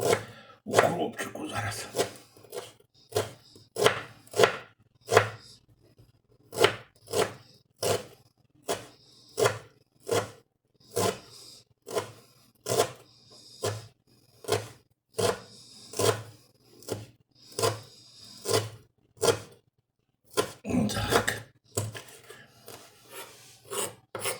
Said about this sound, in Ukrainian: Різаним укропчику